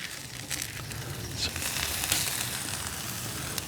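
Eggs frying on a seasoned Weber Traveler 22 inch portable griddle outdoors, a steady, close hiss and crackle that continues without a break and with no talking.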